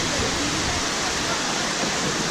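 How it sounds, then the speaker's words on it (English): Strong rushing water at Jiuzhaigou in Sichuan pours in a dense, loud, continuous roar, like a waterfall or fast stream close by, with no break across the short stretch. "Can you guys hear it? The water is really strong."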